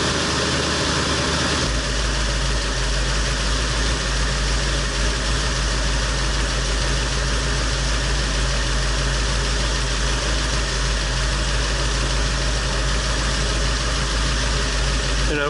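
A 1966 Ford Mustang engine idles after a water pump replacement, a steady, smooth, close-up rumble with a strong low hum and unbroken drone for the whole stretch.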